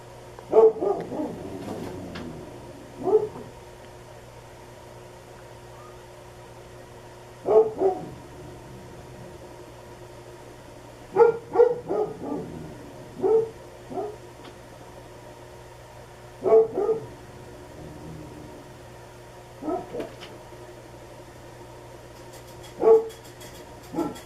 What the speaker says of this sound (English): And of course, Winnow chose this moment to begin barking.